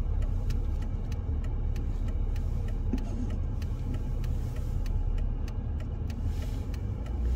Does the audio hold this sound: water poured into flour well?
no